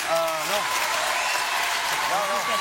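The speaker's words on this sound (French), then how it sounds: "Applaudissements." Studio audience applause on a French TV variety show, a steady dense wash of clapping throughout with voices talking and exclaiming over it.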